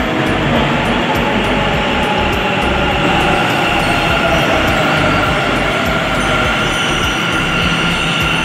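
Metro train cars running continuously on the line between Bangalore and Chennai, a steady loud rumble and rail roar that fills the whole stretch without pause.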